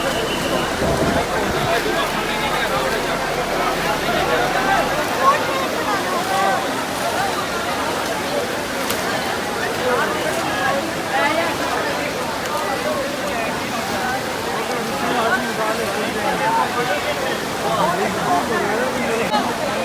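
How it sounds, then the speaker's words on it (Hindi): Water pours steadily at Umbrella Waterfall, a constant loud roar and hiss of falling water close by that never lets up, with voices faintly audible in the background. "अम्ब्रेला वाटरफॉल, जिसके लिए इतनी ज़्यादा मेहनत करके आए हैं हम लोग"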